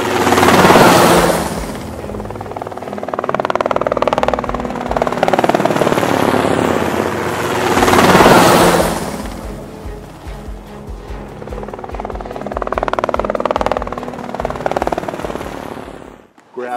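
A small Batman remote control toy helicopter whirs loudly in bursts, its buzzing rotor swelling and fading as it flies close by, with rattling clicks between passes.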